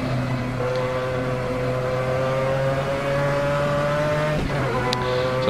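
A Mazda 787B rotary race car in the Assetto Corsa racing game at Mosport, a loud, steady, buzzing engine drone held at high revs with a brief dip near the end as it shifts, with no voices.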